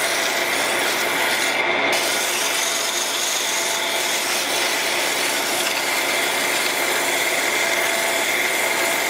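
A turned cherry wood knob for an elm stove is sanded with 80-grit sandpaper as it spins. The dry, abrasive rasp is loud, close and continuous throughout, with no voices.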